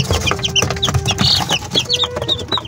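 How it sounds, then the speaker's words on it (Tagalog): Young chicks and chickens cluck and peep repeatedly on a farm ahead of afternoon feeding, a busy chorus of short chirps with a few sustained calls, close and fairly loud. "Yan, malusog na yung ating mga pasisiw."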